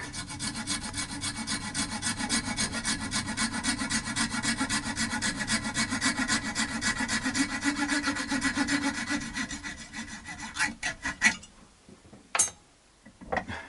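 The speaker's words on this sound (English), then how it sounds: "just as easy to saw it off here than it is to get the big noisy machine going" A handsaw cuts through a wooden archtop guitar bridge in steady, rapid rasping strokes for about ten seconds, close and fairly loud, then stops, and a few scattered knocks and handling clatters follow.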